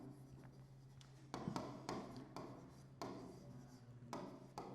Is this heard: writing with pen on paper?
yes